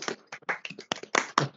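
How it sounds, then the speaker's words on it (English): Scattered hand claps from a small online lecture audience with unmuted microphones, a handful of separate bursts of clapping across a short stretch, uneven and fairly faint, with no talking. "Very generous applause there"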